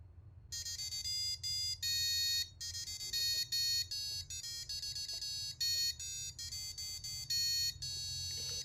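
A small electronic buzzer on a tea dipper project with a servo plays a beeping melody, loud and close, with short notes and brief gaps between phrases.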